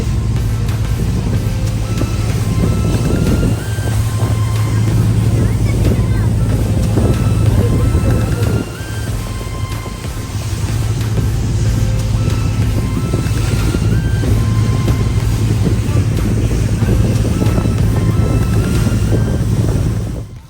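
A boat crosses a rough sea on the way to a snorkelling spot at Redang Island, with a continuous loud roar of wind, surf and crashing waves against the hull filling the whole stretch.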